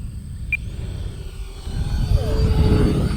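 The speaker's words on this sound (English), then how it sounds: "what we're gonna do now is drop the flaps over the runway, try to bring it in a little slower. No landing gear." A radio-controlled model airplane with its flaps lowered passes low over a runway, its engine whine rising and sweeping in pitch as it approaches, loud and close, under wind noise.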